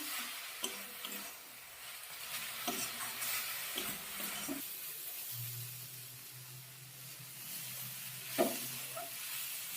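Slow stirring of a coconut filling for dudh puli in a pan, soft scraping and faint sizzling at low volume, with a low steady hum emerging halfway and an occasional louder scrape.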